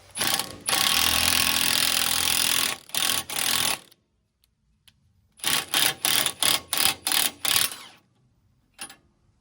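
An impact or ratchet tool runs on a 21 mm socket to tighten an OTC ball joint press on a Toyota Tacoma upper ball joint, one long loud run, then a series of short rapid bursts.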